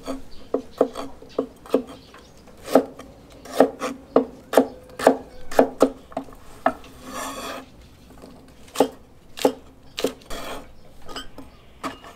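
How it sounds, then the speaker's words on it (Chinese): A knife chops pork belly into small dice on a board, sharp irregular thuds in quick bursts with short pauses, close and clear with no talking. "一块五花肉，切点五花肉丁"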